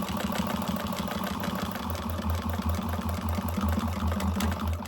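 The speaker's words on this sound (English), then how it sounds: "I'm gonna top stitch again at the top, 1/8 of an inch from the top edge" Sewing machine top stitching a bag pocket, a continuous close rumbling hum with a steady, rapid mechanical rhythm throughout and no voices.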